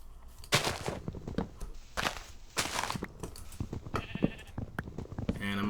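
Sheep bleat repeatedly in the Minecraft video game, several loud bursts in quick succession mixed with other busy game sounds.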